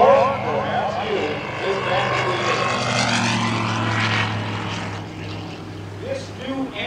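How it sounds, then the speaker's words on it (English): A 2017 Kitfox S7 Speedster with a Rotax 912 iS engine flies past at Oshkosh, its propeller drone rising and sweeping in pitch as it passes, loud and continuous beneath someone talking. "this new engine, the Rotax 912 IS engine under a sleek, smooth cowling, is larger"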